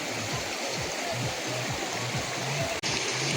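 A river flows through hilly jungle country as a steady, fairly faint rush of water, with low rhythmic thuds beneath it and one sharp brief click near the end.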